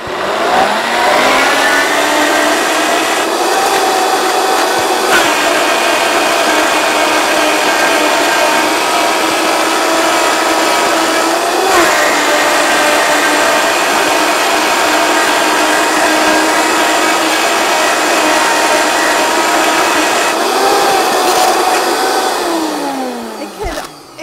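A blender whirs loudly and steadily while blending pumpkin hummus, a sustained motor drone with a slight pitch dip near the start and winding down at the very end.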